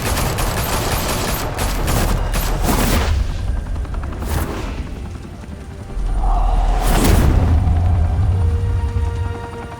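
Rapid gunfire rattles in the Batman Telltale video game, dense overlapping shots and bursts with heavy low booms, loud and continuous across the scene with a swelling blast near the end.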